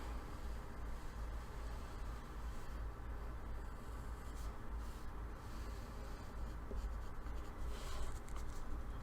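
Pencil shading a great white shark drawing on paper, a steady soft scratching of graphite strokes at close range over faint background hiss.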